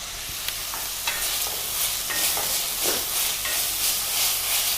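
Ginger and garlic sauteing in a pan over reduced heat, a steady sizzle with intermittent scraping stir strokes, close and moderately loud, no voices.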